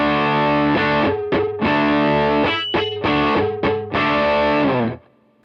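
Heavily fuzzed electric guitar through a Cornerstone NERO fuzz pedal on voice 2, loud sustained chords with a few brief gaps, ending in a short decaying tail and near silence, no talking.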